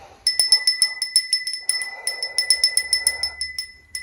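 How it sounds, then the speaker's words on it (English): A small handheld bell rung rapidly over and over, a bright high tinkling series of close strikes with a faint soft rustle under part of it and no speech. "I'm going to ring a little bell before we get started"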